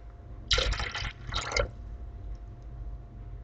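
Water splashes into a bowl of crepe batter in two short pours, bright and close in a quiet kitchen, each lasting about half a second.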